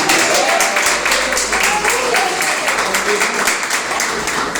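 A church congregation claps in victory for Jesus, a loud, steady wash of applause with rhythmic hand claps and voices mixed in throughout.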